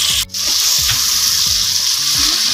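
Ginger garlic paste and tomatoes sizzle loudly in a hot pan, with a steady frying hiss. Stirring scrapes come in a regular rhythm, and the hiss breaks briefly near the start.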